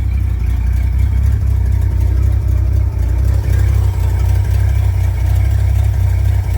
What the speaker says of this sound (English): Like I said, 1991 Chevy 350 engine.